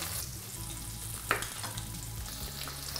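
A fish fillet sautés presentation side down in a pan with a soft steady sizzle and one brief clink partway through, no talking.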